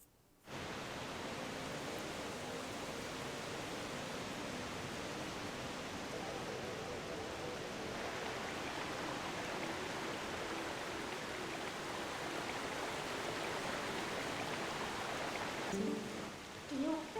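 Rushing water in Zelda: Twilight Princess HD, a fast, raised current flowing steadily as a dense, even roar that fills the whole stretch and grows slightly stronger toward the end.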